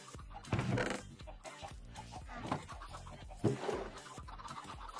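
Chickens clucking in a coop during a livestream mining and chopping game session, with repeated short clucks and calls at moderate distance over a steady background.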